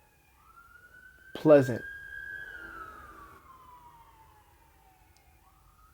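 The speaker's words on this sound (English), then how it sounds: "I just wanted that siren to go past" A passing emergency vehicle siren rises in a single long wail, peaks, then slowly fades into the distance, with a word spoken briefly partway through.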